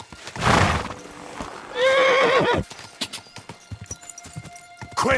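In the game Kingdom Come: Deliverance II, a loud horse whinny rings out after a burst of hooves, followed by scattered clip-clop steps, with no talking.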